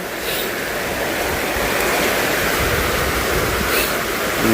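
Heavy rainwater pours steadily off a newly built roof, a dense continuous rushing wash that stays loud and close throughout with no break.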